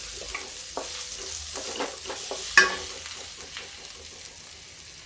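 Onions sizzling in a pan, kept light and not browned, with a steady frying hiss, occasional stirring scrapes and one sharp clink midway.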